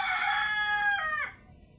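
A rooster crows once close by, a loud, bright call that ends with a falling tail and then drops away, with no voices over it.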